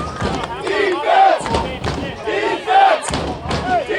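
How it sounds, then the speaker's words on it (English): A crowd at a semi-pro football game between the Middleboro Cobras and the Rhode Island Riptide cheers loudly and continuously. Shouts and roars swell in waves from the stands. "Everybody on their feet cheering for the Middleboro defense to make a one final stop"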